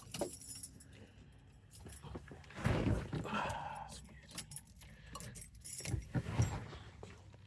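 The original keys of a 1970 Pontiac Trans Am with a 400 Ram Air III engine jangle in two bright, close metallic bursts, with a person talking quietly between them.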